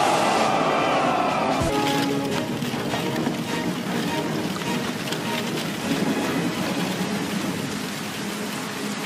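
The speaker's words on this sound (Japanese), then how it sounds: "あいにく雨にござりまする。 今日一日やみそうもありません。" Steady rain pours down across the whole scene, a dense continuous hiss with scattered drops and some wind, loud and close throughout, with no one speaking.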